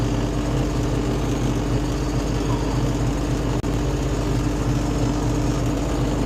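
A DG505MB motor glider's engine idles steadily while it cools after a self-launch, a continuous close, loud drone with one brief dropout partway through and no talking.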